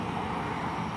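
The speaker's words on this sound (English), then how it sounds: "Apologize for any traffic noise." Roadway traffic in Redding, California, a steady broadband roar of passing vehicles near a roadside, continuous and fairly loud with no talk.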